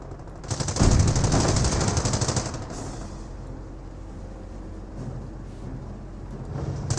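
Machine gun fire in the World War II strategy game Company of Heroes, a loud close burst of rapid shots lasting about two seconds, then rattling down into a quieter mix of battle noise.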